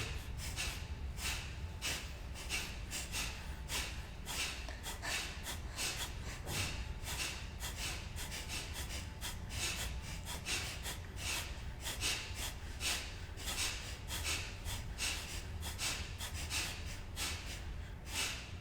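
Forceful nasal exhalations repeat in a quick, steady rhythm during a breathing exercise, each short sharp puff of air close and clear, the bursts coming roughly once a second with faint room noise between them.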